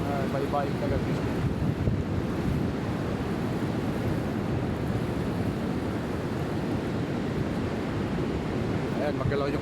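Steady wind buffets the microphone over a constant wash of surf on a white-sand beach in Samar, Philippines, with a faint voice or two surfacing briefly.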